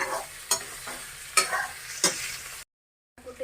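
Boiled pork fries in a pan, sizzling steadily while a spoon scrapes and stirs it in four sharp strokes, followed by a short silence before the sizzle returns.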